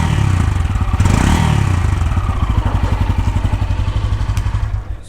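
A Bajaj Pulsar N160 motorcycle engine idles close by with a deep, pulsing exhaust note, briefly revving at the start before settling into an even, bassy thump.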